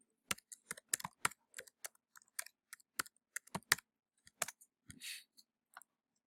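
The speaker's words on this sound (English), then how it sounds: "I'm going to type in Celebrity Portrait." Typing on a computer keyboard, close and quiet: bursts of crisp key clicks in an irregular rhythm with short pauses, one slightly longer rattle near the end, no voices.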